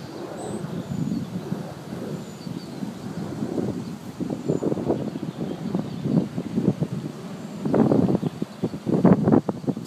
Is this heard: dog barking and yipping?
no